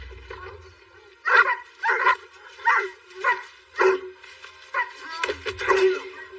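Sled dogs bark in a rapid series of loud, close yips and woofs, about ten bursts in quick succession with brief whimpering between.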